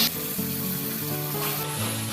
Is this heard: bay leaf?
yes